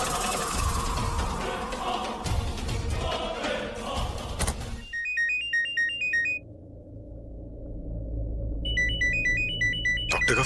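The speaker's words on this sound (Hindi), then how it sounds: "डॉक्टर का फोन इस वक्त?" A mobile phone rings with a bright electronic ringtone melody. It plays in two short bursts and follows a noisy, busy stretch at the start.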